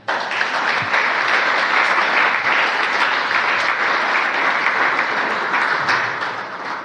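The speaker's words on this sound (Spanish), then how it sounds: "No sé si quiere darle un aplauso al Señor." A church congregation bursts into loud, sustained applause, many hands clapping together in a dense, even roar that holds steady for several seconds before easing slightly at the end.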